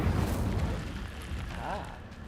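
Incendio fire spell cast in Hogwarts Legacy: a dense, rumbling burst of magical flame that roars at the start and then rolls on as a sustained low whoosh, fairly loud throughout.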